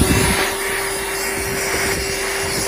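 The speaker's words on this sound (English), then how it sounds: "When you get a chance, just go ahead and vacuum it out" A vacuum cleaner runs steadily inside the hull of a Sea-Doo RXPX 300 jet ski, a loud, close, unbroken whine with a constant hum and no one talking.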